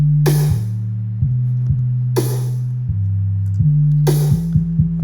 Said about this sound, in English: this future bass snare.